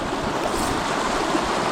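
A small river flows a few kilometres away in the wilderness of Norrbotten, giving a steady, close, even rushing wash of water with no break and no voices.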